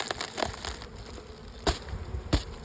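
Honeybees buzz around an open hive, a faint steady hum under a few sharp clicks and knocks close by, with no talk.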